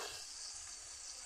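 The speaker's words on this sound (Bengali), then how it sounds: "নুন দিয়ে ভেজে নিচ্ছি" Cauliflower fries with salt in an oiled pan, giving a soft steady sizzle with faint stirring, quiet and close, no voices.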